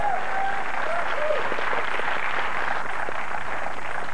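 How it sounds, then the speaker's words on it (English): Studio audience applauding contestants on a television dating show stage, steady and full, holding at an even level throughout. "Give them a nice round of applause."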